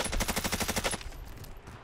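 Automatic gunfire from the Season 5 Call of Duty Warzone game, with a FAL rifle in play: a rapid, loud burst of evenly spaced shots for about a second, then quieter scattered game noise.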